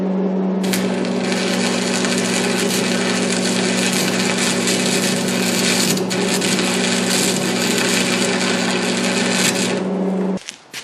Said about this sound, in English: I'm just gonna quick weld this piece of sheet metal to my sacrificial table